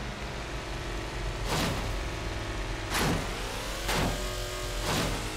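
A Jaguar XFR in City Car Driving spinning its rear wheels under throttle, a steady engine drone with repeated rising whooshes and revving surges, loud and continuous with no speech.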